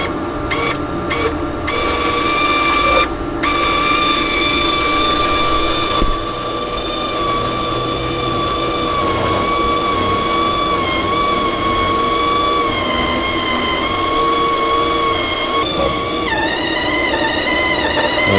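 A Bestarc MIG145 3-in-1 welder's wire feed motor runs with a steady, close electric whine of layered tones, holding constant for about eighteen seconds with brief dips near the start and a slight pitch shift toward the end.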